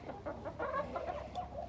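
Backyard chickens cluck in short, overlapping bursts, close and moderately loud, with no other sound over them.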